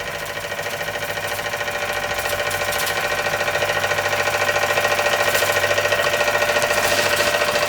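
A small Kassner vertical-boiler model steam engine runs on a low burner, a steady, fast, close mechanical chuffing and clatter that holds an even rhythm and grows slightly louder.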